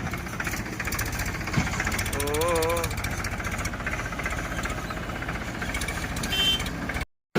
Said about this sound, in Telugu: ఇంకో ట్రాక్టర్ వస్తుంది